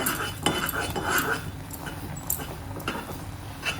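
Flour stirred quickly into boiling water in a pot over low gas, giving brisk scraping and clinking of a spoon against the cookware in irregular bursts, close and moderately loud, with no talking.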